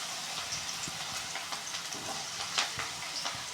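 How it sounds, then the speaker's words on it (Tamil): Cauliflower pakoda deep-frying in hot oil, a steady close crackling sizzle with scattered louder pops throughout, no voices. "அந்த சுட எண்ணெயில் காலிஃப்ளவர் போட்டு பொரிச்சு எடுக்க போகிறோம்"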